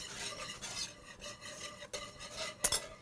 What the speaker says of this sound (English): So now we're going to keep adding our broth and stirring.